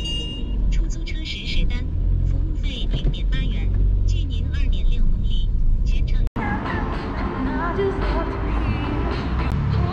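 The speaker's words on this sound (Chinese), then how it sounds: "也发生了堵车" Stuck in a traffic jam on a small road in Wuhan, a car interior carries a low, continuous engine and road rumble, with nearby vehicles crawling past and a voice talking intermittently over it.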